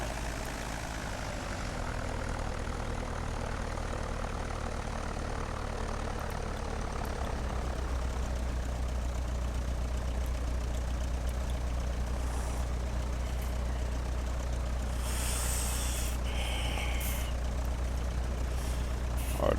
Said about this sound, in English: As soon as I park the plane, I'll be through.